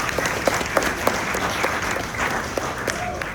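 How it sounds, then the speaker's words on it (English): An audience claps in welcome for a speaker at a civic participation talk, steady applause with scattered sharper claps sustained throughout. "Can we have a round of applause?"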